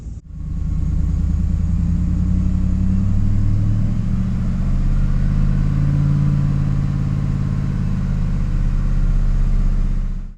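A Chevy Silverado engine idles steadily after a restart, a loud, close low rumble with a slight rise in revs near the start, holding even for about ten seconds with no talking.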